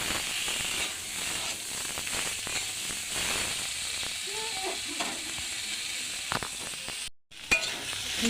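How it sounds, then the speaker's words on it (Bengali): Tomatoes fry in oil in a pan with a steady, soft hiss and occasional light stirring scrapes, fairly quiet and continuous, briefly cutting out near the end. "টমেটোটা এরকম লাল লাল করে ভেজে নেবো"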